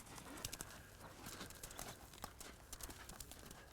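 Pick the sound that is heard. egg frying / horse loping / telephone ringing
horse loping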